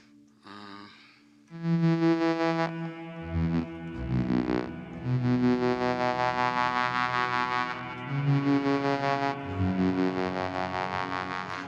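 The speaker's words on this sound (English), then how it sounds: "I've just engaged the synth on the HXeffects." A synthesizer plays through an HX Effects processor with distortion: sustained, buzzy notes, the pitch shifting between held tones, loud and rich in harmonics.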